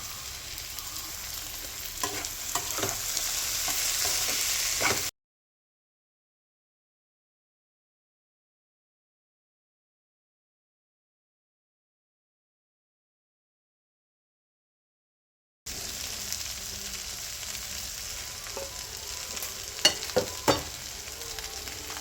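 Vegetables sizzle and crackle steadily in hot oil for fried rice with egg and paneer. The frying stays close and even, breaks into a stretch of full silence, then returns with a few sharper pops.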